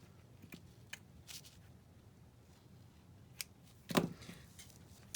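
Scissors snipping through magazine paper, quiet and close, a few sparse cuts and rustles with one sharper crisp snip near the end.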